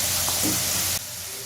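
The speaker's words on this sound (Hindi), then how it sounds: "ये अभी थोड़ी 1-2 मिनट और पकाएंगे, इसको फ्राई करेंगे जी" Pizza fries sizzling and frying in hot oil, a steady close hiss that drops slightly in level near the end.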